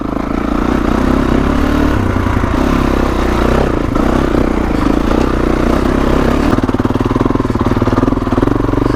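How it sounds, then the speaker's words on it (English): A 2021 Kawasaki KX450X dirt bike lugging up a steep hill trail, its engine loud and close in a steady low chugging drone with throttle shifts and some clatter. "Really gonna test out how well the KX lugs here."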